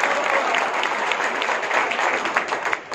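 Crowd applause at a public event with a state minister, steady clapping from many hands throughout, fairly loud and continuous with no pauses.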